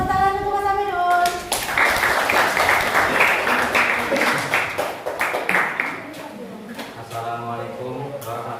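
Classmates applaud a student, a burst of loud, dense clapping lasting several seconds before fading, with a teacher speaking just before and voices returning as the applause dies down.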